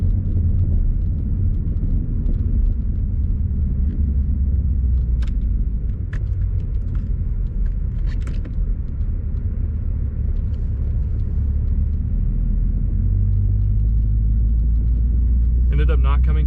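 Ford Mustang climbing an uphill road in winter, a continuous low engine drone and road rumble inside the car with scattered faint clicks, while someone talks over it throughout.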